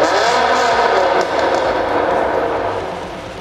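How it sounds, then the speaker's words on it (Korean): A Hyundai Genesis Coupe 380 GT-P revs loudly up close, its exhaust giving a dense, sustained roar that eases off slightly toward the end, with no one speaking. "다음 배기음 듣고 오겠습니다."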